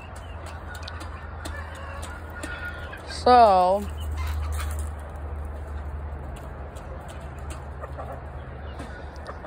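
A hen clucks in one brief loud burst among backyard birds, with a voice speaking softly nearby and a low steady hum underneath.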